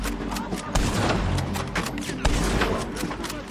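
Western gunfight gunfire in Red Dead Redemption 2, scattered shots and booming reports over a constant rumble of action, with a couple of heavier thumps standing out and faint voices mixed in.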